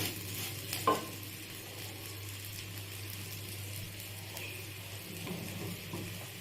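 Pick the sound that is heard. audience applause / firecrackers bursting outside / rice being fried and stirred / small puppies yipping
rice being fried and stirred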